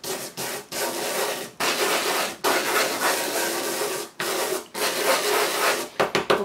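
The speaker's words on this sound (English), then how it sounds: "The longer you spend rubbing the chalk into the salt," Chalk being rubbed into salt by hand to colour it, a steady loud gritty scraping in long strokes broken by brief pauses, with a few quick short rubs near the end.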